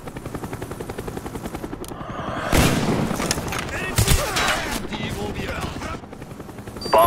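Attack helicopter in the Call of Duty: Black Ops video game, a steady rotor chop throughout, joined by loud bursts of gunfire and explosions in the middle, with game voice callouts mixed in.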